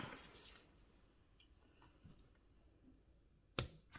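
Scissors snip embroidery thread during cross-stitch work, one sharp close click near the end after quiet, faint handling sounds.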